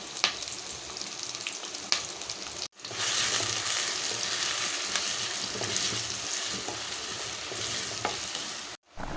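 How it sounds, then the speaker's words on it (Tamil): Onions and curry leaves frying and sizzling in hot oil for a crab curry, a steady close hiss with occasional stirring clinks and two brief silent gaps; no voices. "இதில் கருவேப்பிலை போட்டுக்கலாம்"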